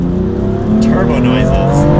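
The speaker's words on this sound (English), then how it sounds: "Turbo noises." A BMW M4 Competition's turbocharged engine revs up with a rising surge and faint turbo whoosh, loud and close from inside the car, while a voice talks over it.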